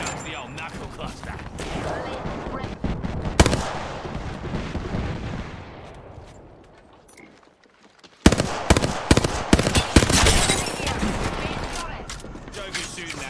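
Rapid bursts of gunfire in a first-person shooter video game as the player comes under fire, dense volleys and sharp shots throughout, a brief lull midway before loud firing resumes, with a player talking over it.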